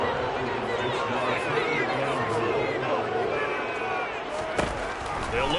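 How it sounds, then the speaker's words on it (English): A crowd roars at an American football game between the Vikings and Patriots near the goal line, a loud, continuous wash of massed voices filling the stadium. "You can already start to hear this crowd. They're saying, go for it."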